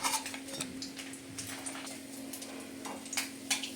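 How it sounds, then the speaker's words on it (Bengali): Small fish go into hot oil to fry, producing a low, continuous sizzle with scattered metallic clinks from a spatula or pan, and no one speaking. "এখানে যেহেতু মাছটা আমি 2বারে ভাজবো তাই আবার বাকি মাছটা ওই তেলের মধ্যে আমি দিয়ে দিচ্ছি।"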